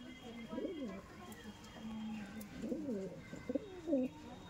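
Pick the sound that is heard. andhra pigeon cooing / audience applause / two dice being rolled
andhra pigeon cooing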